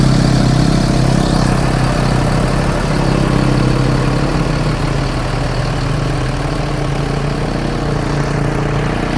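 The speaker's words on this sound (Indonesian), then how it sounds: "Nih kita dengarkan suara mesinnya. Suara mesinnya sih halus banget" A bus engine idles smoothly and steadily on a trip from Jakarta to Pekanbaru, a loud continuous low rumble with a constant hum and no voices.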